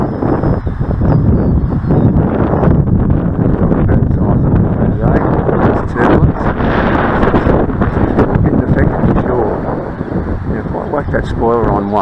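Steady wind rushing and buffeting across an open field while a radio-controlled 2 m F5 RES glider flies; loud, continuous microphone wind noise throughout.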